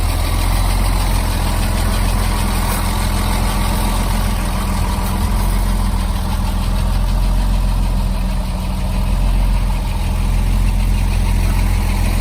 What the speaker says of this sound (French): Voilà, vous voyez, la voiture tourne très bien.